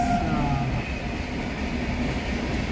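Loud, close rumble and rhythmic wheel clatter of a train rolling through a railway level crossing, steady throughout with a brief tonal squeal at the start.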